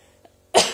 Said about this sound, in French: Désolée, je tousse et tout ça